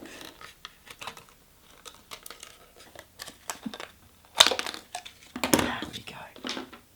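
Scissors cut a piece of PET plastic for a puppet, giving close, crisp snipping and crinkling clicks in irregular bursts, with one louder crackle midway and soft speech in the background.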